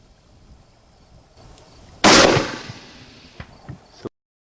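A single loud, sharp rifle shot cracks out during an antelope hunt on a buck, preceded by quiet outdoor ambience and followed by a decaying echo and a few small thumps.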